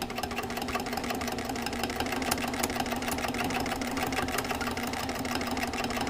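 A sewing machine runs continuously at steady high speed with a rapid rhythmic needle chatter while free-motion quilting a meandering loop pattern on fabric pushed by hand.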